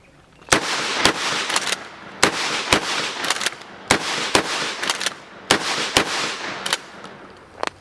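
A DP-12 double-barrel pump shotgun firing buckshot outdoors, sharp loud blasts in quick pairs, roughly a dozen shots in under eight seconds, each followed by a brief echoing tail.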